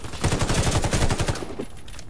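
Assault rifle gunfire in the video game Warface: a rapid automatic burst of a dozen or so loud shots, then fading.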